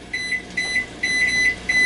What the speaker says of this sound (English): as you probably heard by my setting a kitchen timer using the microwave